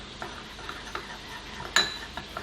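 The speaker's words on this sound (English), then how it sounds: "The peanut butter is going to be quite sticky, so you might need to mix a fair bit." A spoon works through a sticky peanut butter mixture in a bowl, with soft scraping and light taps against the sides at irregular intervals, close and quiet, ending in one sharper clink.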